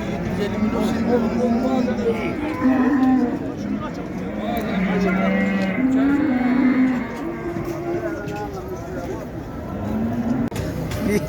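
Cattle and calves moo repeatedly at a livestock market in Şarkışla, with several loud, drawn-out calls close by and others overlapping from farther off, over steady market noise.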